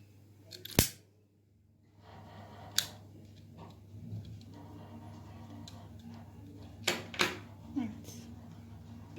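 Scissors snip the excess threads off a handmade knotted cord bracelet with a few sharp, close clicks spaced apart, over a low steady hum and some quiet handling noise.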